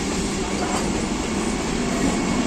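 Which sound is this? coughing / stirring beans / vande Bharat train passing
vande Bharat train passing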